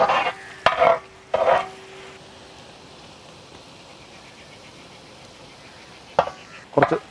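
Ginger, garlic and green chilies fry in coconut oil for a Kerala-style tapioca (kappa) biryani, giving a faint, steady sizzle broken by a few short bursts of stirring at the start and end.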